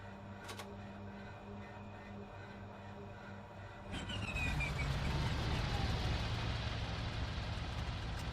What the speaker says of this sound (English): The entire startup sequence is automated, so we just press E and the engine will start by itself.